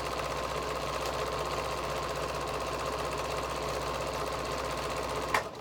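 A Pfaff Creative 7510 sewing and embroidery machine with a metal casing runs with a steady, even mechanical hum and rapid stitching rhythm. A brief click sounds near the end.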